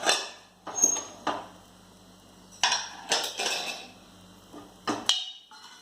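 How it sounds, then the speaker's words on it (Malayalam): A stovetop pressure cooker being opened after whistling while cooking plantain and cowpea curry, giving a series of sharp metallic clanks and clinks of the lid and pot, spaced irregularly, close up with no talking. "വിസിലെല്ലാം പോയി നമുക്കിത് കുക്കറൊന്ന് തുറന്ന് നോക്കാം."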